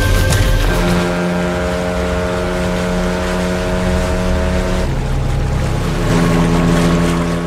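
A motorboat travelling on water in a film scene: a loud, steady engine drone with a low hum and rushing water, running continuously with a slight change in pitch midway.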